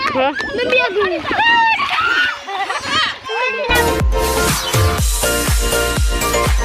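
People bathe in a filled water tank, and a burst of vigorous splashing and sloshing breaks out after a stretch of talking, with excited voices mixed in.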